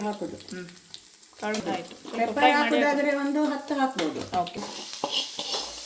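Spice tempering with black peppercorns sizzles and crackles in hot oil while a person talks over the frying, with some stirring noises near the end.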